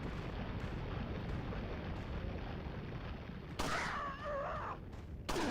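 A barrel exploding in a video game: rumbling, crackling blast noise fills the first few seconds, then a sharper burst with a ringing, warbling tail and another abrupt hit at the end.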